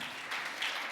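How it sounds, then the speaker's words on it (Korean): Brief steady applause from an audience at a Korean guardianship conference special session, a dense patter of clapping heard only for a moment. "다시 한번 감사의 박수를 드리겠습니다."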